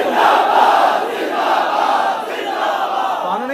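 A large crowd at a religious gathering in Sheikhupura chants a religious slogan in unison, a loud, dense mass of voices sustained throughout without pause.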